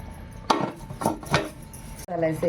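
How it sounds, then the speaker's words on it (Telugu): Metal clanks of a lid set onto a cooking pot of simmering goat leg soup, a few sharp knocks and scrapes close by, with someone talking over them. "మూత అయితే పెట్టేసుకుందాం"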